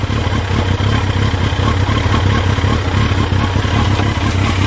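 A 1982 Yamaha Turbo Seca 650 motorcycle runs while being ridden, its engine a loud, close, steady mechanical drone with a rough clattering pulse and no speech.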